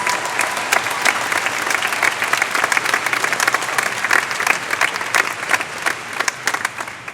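Sustained applause from a large commencement audience honoring graduates' achievements, dense steady clapping that fills the space, loud and continuous with faint crowd murmur underneath.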